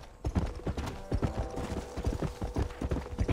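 Horse hooves clip-clop steadily in Red Dead Redemption, a close, brisk rhythmic run of hoofbeats on hard ground with no talking over it.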